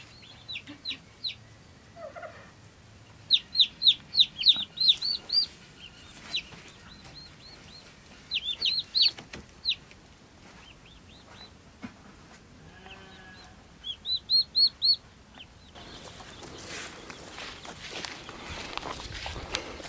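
Chicks and ducklings chirping in short, bright bursts of rapid peeps, separated by quieter stretches with faint shuffling and background noise, fairly close.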